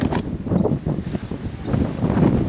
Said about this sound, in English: Still windy.